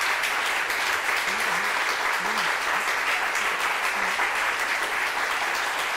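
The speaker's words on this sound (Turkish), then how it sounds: "Sevgi Hanım buradan gelecek şimdi alkışlarla" Studio audience applause on a Turkish daytime television talk show, a dense, loud, steady wash of clapping filling the whole stretch, with faint voices rising briefly underneath.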